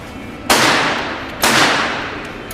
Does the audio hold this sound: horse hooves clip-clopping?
no